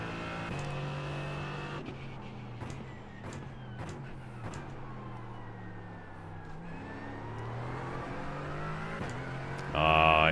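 Racing car engine in a racing video game, revving and accelerating through repeated gear changes with rising and falling pitch, steady and fairly loud, ending in a brief higher burst.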